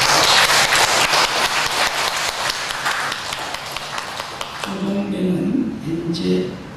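A church congregation at a Sunday service bursts into loud, rapid applause, dense clapping that thins out and fades after about four seconds as a voice and music-like tones take over.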